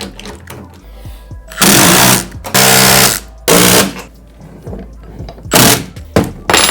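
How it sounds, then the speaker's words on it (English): Bolts and nuts securing vise hardware on a tool chest are tightened with a power tool, giving four loud, close bursts of whirring rattle, each about a second long, separated by quiet handling sounds. "let's go ahead and tighten it down fully"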